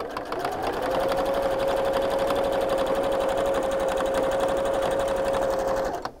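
A domestic sewing machine runs steadily for about six seconds, its rapid needle rhythm close and continuous, stitching a ribbed cuff band onto the bottom hem of a sweatshirt.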